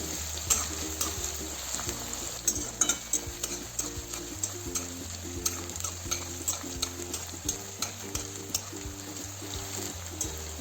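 Onion stirred continuously in a pan with a spoon, producing faint, steady scraping taps in a regular rhythm over a quiet, low sizzle.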